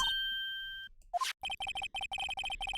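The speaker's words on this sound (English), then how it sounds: "I know that song your phone plays when it rings." A short melodic ringtone from the video game Phoenix Wright: Ace Attorney, playing the Steel Samurai theme as a quick run of bright repeated electronic notes in a bouncy rhythm, clear and alone, after a brief held tone.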